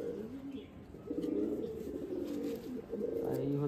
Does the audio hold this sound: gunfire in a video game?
no